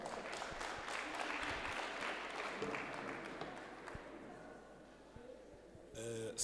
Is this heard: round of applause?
yes